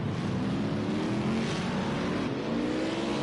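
Race car engine in a sim racing game on the Streets of Long Beach circuit, a steady droning roar on pit road with a slowly rising pitch, held loud and continuous throughout.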